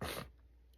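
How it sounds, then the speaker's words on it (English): A single sharp sneeze from someone dealing with morning allergies, close and loud in its first quarter second, then dropping away to a quiet room. "you hear me do a lot of sneezing"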